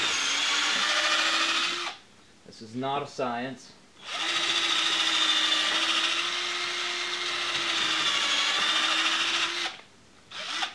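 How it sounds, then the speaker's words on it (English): A power drill whirs loudly in two long sustained runs, drilling pilot holes into glued wood in a van build, pausing briefly while a person speaks between them. "drill some pilot holes here."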